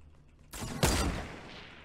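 Gunfire from an enemy player in the Fortnite video game: a sudden burst starts partway through, peaks in a sharp loud crack, then tails off into a dense rattle. There is no talking.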